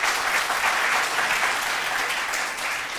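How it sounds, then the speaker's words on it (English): Steady, dense applause from a crowd cheering a school quiz team at a basic school quiz contest, continuous and fairly loud for the whole stretch with no voices on top. "A round of applause for them, please."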